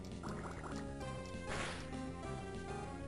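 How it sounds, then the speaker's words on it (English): A Water Gun attack in Pokémon Ruby gives a watery splashing burst layered over chiptune game music, with a brief rushing surge in the middle, fairly quiet overall. "so I'm going to water gun."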